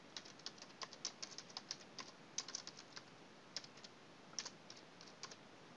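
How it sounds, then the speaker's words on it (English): Typing on a computer keyboard, quiet quick bursts of light key clicks in an uneven rhythm with short pauses between words, close and soft. "I'm going to title this, if I could type correctly"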